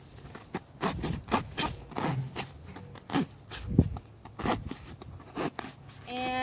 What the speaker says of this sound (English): I'm going to use the knife to cut into the cardboard